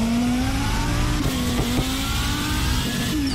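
A Dodge Viper ACR Extreme engine in a driving game holds a loud, steady high rev with a rising, slightly climbing tone and a brief flutter midway, close and alone without voices.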